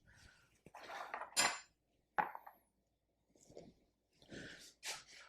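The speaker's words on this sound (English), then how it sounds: "So let's get the pan on." A few sharp metallic clanks and scrapes as a frying pan is set onto the hob, separated by short quiet gaps, with soft rustling and handling noises nearby.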